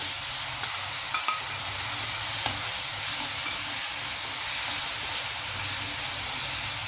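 Chopped tomatoes hit a hot oiled pan for a beans tomato curry, giving a steady, close frying sizzle and hiss that holds evenly throughout with faint stirring clatter and no talk.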